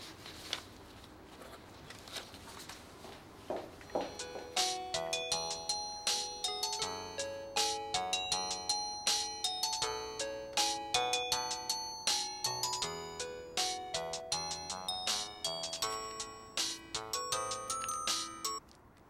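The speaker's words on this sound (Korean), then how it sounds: "전화 왔었어요." A mobile phone ringtone plays a bright, repeating electronic melody of quick plucked notes that rises in and continues steadily at close range, with no voices over it.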